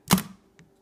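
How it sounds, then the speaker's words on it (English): A camera's mirror flips up and the shutter fires in one sharp mechanical clack, close and clear, followed by a faint softer click about half a second later in an otherwise quiet room. "you can see that in there the mirror flips up, which is why that gets dark"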